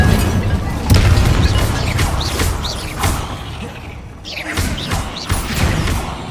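Fire spell blasts in Hogwarts Legacy, a series of loud booming bursts and thuds spaced through the scene amid game sound effects.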